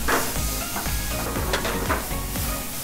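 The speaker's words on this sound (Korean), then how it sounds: "그래서 이렇게 볶아준 다음에 그 다음에 오뎅을 넣어서 당근 이제 남아있는 재료를 다 넣어주시면 돼요" Meat, fish cake, carrot and other ingredients stir-fried in a hot pan for a Shin Ramyun noodle dish, a continuous close sizzle with scraping stirs and clatter, no talk.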